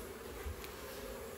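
Honeybees in a well-populated mini nuc hive hum as a steady, close, low drone throughout, faint overall, with no talking.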